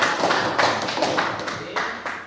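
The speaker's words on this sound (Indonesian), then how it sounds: "Tepuk tangan dulu ya" Students in a high school geography classroom clap together on cue, a dense burst of overlapping hand claps that rises quickly and then tapers off over a couple of seconds, with a faint hint of voices underneath.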